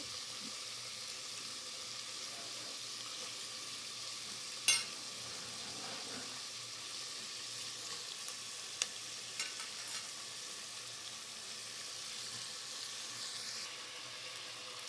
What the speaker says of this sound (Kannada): ಸ್ವಲ್ಪ ಎಣ್ಣೆಯಲ್ಲಿ ಫ್ರೈ ಆದರೆ ಟೇಸ್ಟ್ ಚೆನ್ನಾಗಿರುತ್ತೆ